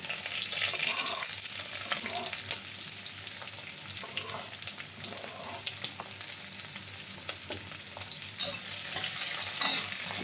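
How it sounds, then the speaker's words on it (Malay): Lemongrass and spice paste sizzle and fry steadily in a pan as they are sautéed and stirred, a continuous close crackle with occasional scrapes. "Okay, kita tumis dulu bahan-bahan ni. Kita tumis semua."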